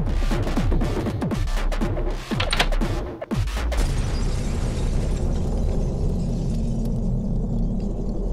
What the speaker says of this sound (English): But anyone within 3 miles would have seen that explosion.